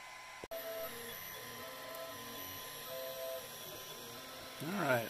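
A ToyBox 3D printer lays down a pineapple planter with a steady, fairly quiet motorized whir and hum, ending in a brief warbling stepper-motor whine near the close.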